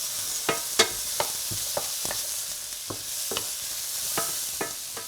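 Seasonings and herbs stirred through a sizzling skillet, a spoon scraping the pan in a run of sharp, irregular clicks over a steady hiss of frying, close and fairly loud with no talking.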